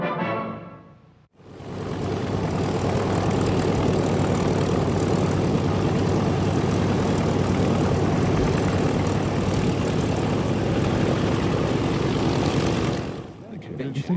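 A World War II P-51 Mustang propeller fighter roars past close and loud, a dense, continuous engine-and-propeller drone that holds steady for over ten seconds before dropping away.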